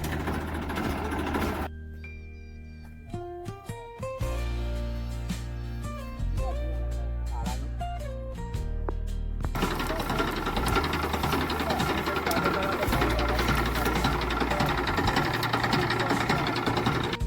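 A loud tractor engine rumbles and labours, its pitch rising and falling as it revs pulling a tractor stuck in mud, then gives way to a dense, rough, steady roar.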